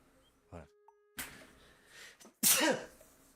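A sharp, loud sneeze bursts out near the end, after a few quieter rustles and a short vocal sound earlier on.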